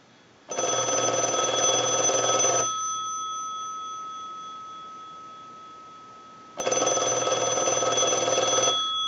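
A Mickey Mouse telephone's bell rings in two long electric bursts separated by a quiet gap, bright and metallic with a steady hum lingering underneath.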